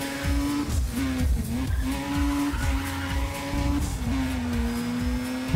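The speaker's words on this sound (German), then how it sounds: "Autos durch Tunnel rasen lassen," Racing cars roar through a tunnel in the racing game Need for Speed ProStreet, a loud, steady engine drone with a sustained high whine that shifts pitch, close and continuous, with no talk.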